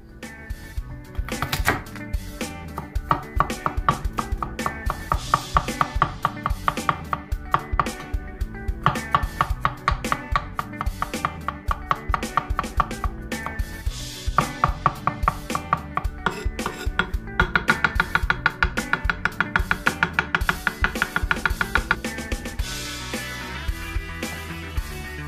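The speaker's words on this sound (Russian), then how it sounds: "Порезать хлеб тонко оказалось задачей не из простых." A handmade classic zasapozhnik knife slices fresh black bread, giving a steady run of close, crisp cutting strokes with sharp knocks on the board, loud and clear with no talk.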